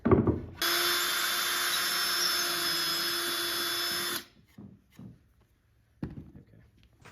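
A power tool whines at a steady high pitch for about four seconds while sanding a plywood guitar body, then cuts off and gives way to a few scattered knocks and handling taps.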